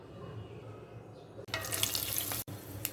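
Running water rushes over beef liver pieces being washed, with a quieter stretch of kitchen noise before it and a brief cut partway through; no voices.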